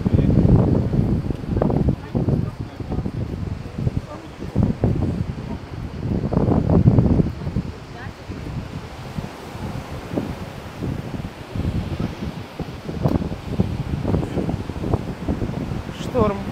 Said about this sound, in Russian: И ветер очень сильно, он прям пронизывает аж до костей.